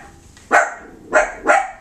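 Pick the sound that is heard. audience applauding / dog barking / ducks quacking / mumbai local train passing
dog barking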